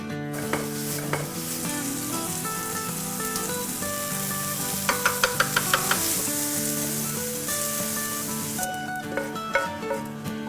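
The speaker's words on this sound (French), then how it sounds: "on va faire sauter ces 4 cèpes là, ces quelques champignons pour intercaler dans le fromage" Porcini mushrooms sautéing in farm butter in a pan give a steady close sizzle with stirring, occasional sharp crackles, and music playing in the background.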